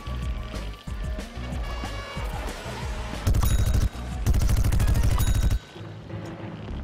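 An air strike in Plants vs. Zombies: Garden Warfare 2, with dense rapid-fire bursts and explosions that build into two long, loud barrages of rattling impacts, then drop back to scattered game noise.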